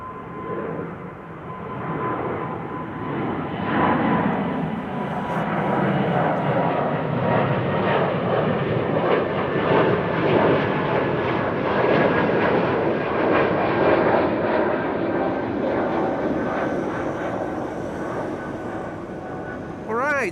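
An Air Baltic airliner departs Amsterdam Schiphol Airport, its engines a loud, steady broadband roar sustained throughout with a slowly shifting whine, while a voice talks over the noise.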